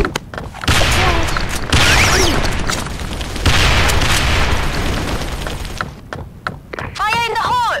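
Grenade blasts and gunfire in the online shooter Sudden Attack, loud and nearly continuous booms filling several seconds, easing near the end as a voice cuts through.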